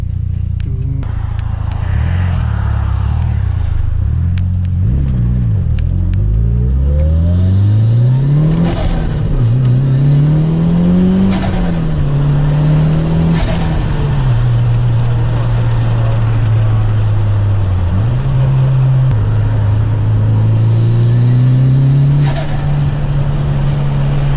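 A Mitsubishi Evo with a new intake revs hard and repeatedly, close and loud. Its turbo whooshes audibly as it spools, and the engine note rises and falls with each blip, with a brief voice buried in the roar.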